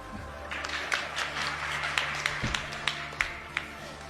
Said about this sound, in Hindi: आप लोगों ने तालियां बजाकर ये बताने का कष्ट किया कि आपको अब समझ में आ गया है